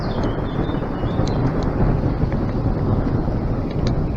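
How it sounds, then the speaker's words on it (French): Thunder rolls in a long, heavy rumble as a storm arrives outdoors, loud and continuous with wind buffeting the microphone. "Ça gronde, le ciel il est pas beau du tout."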